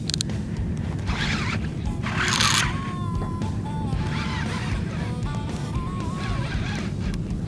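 Braided fishing line zips off a reel while fighting a redfish in Louisiana, in several quick raspy whirring bursts over a steady outdoor rumble of wind and water.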